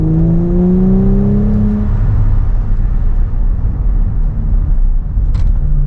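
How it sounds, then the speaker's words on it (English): A loud, close Audi RS5 turbocharged engine drones and rumbles, its pitch sliding up briefly at the start before settling into a heavy, steady roar. "The turbo sound is crazy in this thing."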